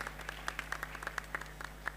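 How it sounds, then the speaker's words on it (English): Sparse applause from an audience clapping for panelists at a conference panel, scattered individual claps spaced irregularly, moderately quiet over a steady low hum. "And also another clap for our panelists,"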